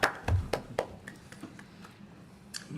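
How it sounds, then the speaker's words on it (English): A small round of applause for a student at a school board meeting, a few sparse claps from a handful of people, fairly faint and tapering off quickly. "We want a big round of applause for James Abbott from Harlingen High School South."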